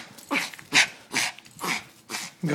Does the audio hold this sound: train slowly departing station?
no